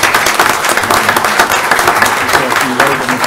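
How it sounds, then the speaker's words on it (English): Loud, sustained applause from the audience at a Beaufort County Council meeting, welcoming a speaker named David, with thick, continuous clapping and no break. "So let's give David a round of applause."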